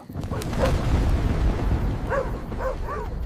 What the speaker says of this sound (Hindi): कुत्ते लगातार भौंक रहे थे,